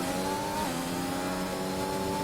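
A racing car engine in a sim racing league video game, set on a China circuit, holds a loud, steady, buzzing note that rises in pitch as the car accelerates.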